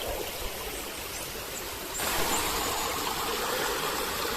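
Water rushing through the old sluice and over a battered, holed weir at the former Endcliffe wheel, a steady broadband roar that swells noticeably louder partway through.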